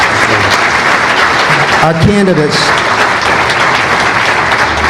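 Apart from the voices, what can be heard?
applause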